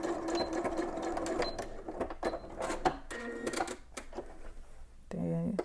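A domestic sewing machine stitches a skirt vent seam and back tacks near the end, giving fast rattling bursts with short pauses between runs, close and fairly quiet.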